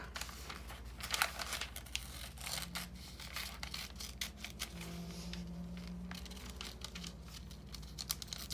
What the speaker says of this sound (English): Now I can cut out a bigger piece than the ear, and then go back and cut around it.